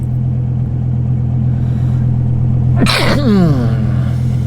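A single sharp sneeze bursts out over a steady low engine rumble, as if inside a running car, with the hum continuing throughout.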